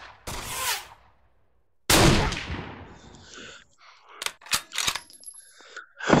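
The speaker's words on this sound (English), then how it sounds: "Hey, he's shooting at me." Gunfire in a VR shooting game, two loud booming shots a second or so apart, each with a long decaying tail, followed by a quick cluster of sharper cracks and a final shot.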